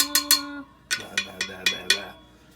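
A screwdriver taps the spokes of a Honda CB550 rear wheel, first two bright ringing pings with a sustained tone, then a run of five sharper, shorter metallic ticks in close, irregular succession.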